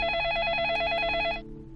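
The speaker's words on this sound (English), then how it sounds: "Oh, perfect timing, phone." A telephone rings in the video game Facade with a loud, close electronic trill of rapid repeating pulses for about a second and a half, then cuts off abruptly into quiet room tone.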